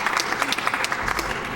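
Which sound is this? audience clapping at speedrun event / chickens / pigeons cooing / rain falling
audience clapping at speedrun event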